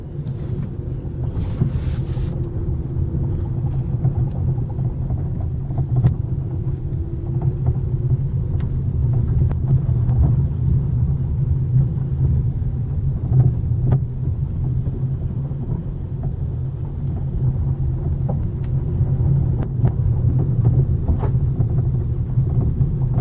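A Ford Focus 3 being driven around a circuit to expose a knocking steering rack; steady low road and engine rumble fills the interior continuously, with faint irregular knocks barely standing out above the drone.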